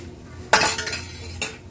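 Spoon clinking against a pan while cashew-almond powder is mixed into ghee, a sharp metallic clank followed by a few softer scraping stirs and a second clink near the end, close and alone.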